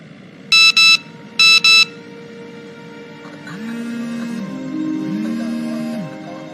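A mobile phone rings with two bursts of bright electronic beeps in quick succession, fairly loud and close, then gives way to lower warbling synthetic music tones.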